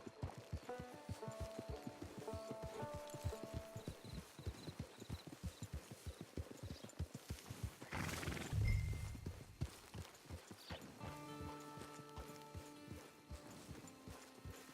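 Horses in the video game Red Dead Online: a brisk, steady clip-clop of hooves near the listener, with a snort or brief whinny midway, backed by soft musical tones and no speech.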